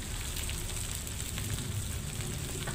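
Spice paste with kaffir lime leaves and galangal sizzles steadily in hot oil, a continuous moderate frying crackle with no pauses or voices, for crispy tempe and anchovy.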